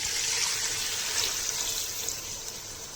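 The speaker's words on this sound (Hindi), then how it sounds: "3 कप पानी डाल देंगे।" Three cups of water poured into a pot of Patiala Shahi Gosht mutton curry after the spices are fried with the meat, a steady hissing, splashing stream that gradually softens.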